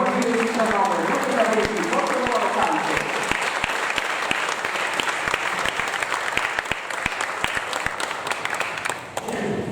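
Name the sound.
applause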